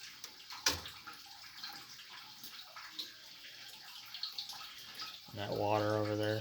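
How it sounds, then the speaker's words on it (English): Running water splashes and trickles steadily in the background, leaking from a 1960 Frigidaire Custom Imperial Multimatic washing machine, then a louder machine hum with a rising harmonic whine starts up near the end. "that water over there is just leaking like crazy"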